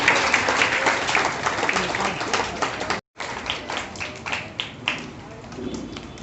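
Dense applause from a crowd, steady and loud, with a brief cut partway through and talk faintly mixed in.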